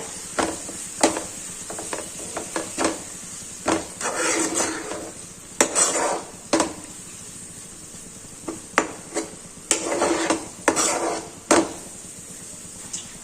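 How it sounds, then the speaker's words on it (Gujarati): A spoon scrapes and clatters in a pan while green pigeon pea curry with red chili powder, chili paste and spices is stirred and sautéed, giving irregular knocks and scrapes over a soft sizzle, with no voices. "મિક્સ કરી અને પ્રોપર સાતળી લેવાનું છે"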